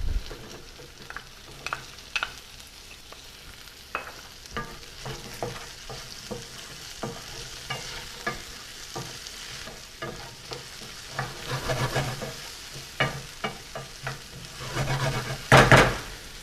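Zucchini sautéing with garlic in a pan gives a low, steady sizzle with frequent scraping and tapping as it is stirred, close by, plus a louder clatter near the end.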